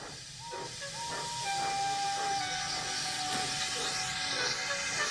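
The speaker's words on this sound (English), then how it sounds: "He didn't have enough steam and came to a stop outside Edward's station." A steam locomotive short of steam hisses loudly and continuously up close, with faint whistle-like tones threading through the rushing steam.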